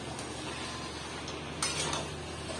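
Large poultry chicken leg pieces are stirred in a cooking pot, giving soft scraping and shuffling with one louder metallic clank midway, close by and without talk.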